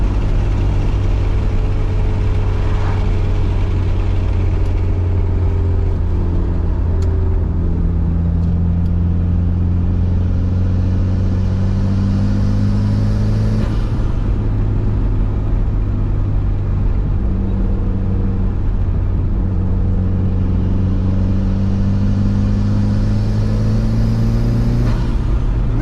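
A tuned, high-mileage Mitsubishi Evo 9 MR engine runs at half throttle, a loud, steady, droning rumble up close, rising and falling in pitch across two long pulls, with no talking.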